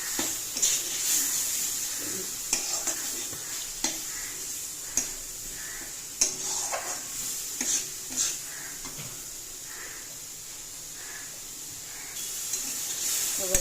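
Spices and a tomato with salt, cumin powder and turmeric sautéed in a little oil: a bright hissing sizzle broken by repeated spatula scrapes and clacks against the pan, close and fairly loud.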